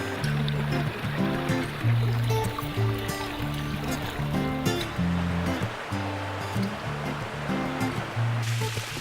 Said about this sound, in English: This Cibolo Creek up here is so sweet and gentle and such a mellow little creek.